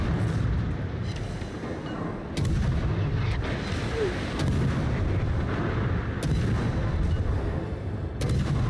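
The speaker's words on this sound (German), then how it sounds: "Das gibt eine schöne Salve." Ship cannon salvo in World of Warships, a dense, continuous rumble of heavy gunfire with repeated sharp booms cutting through, loud and sustained throughout.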